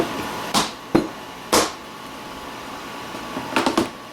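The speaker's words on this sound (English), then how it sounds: "I know my plastic on my desks is very loud." Plastic sheeting covering a painting desk rustles and crinkles in short bursts, three separate close scrapes followed after a pause by a quick cluster of rustles, over a low steady room hum.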